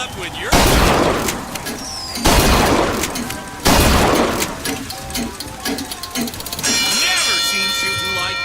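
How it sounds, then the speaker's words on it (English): Gunfire in BioShock Infinite: three heavy, booming shot bursts a second or so apart, each with a ringing tail, followed by continuous clatter and ringing tones, with game voices talking. "Never seen shooting like that."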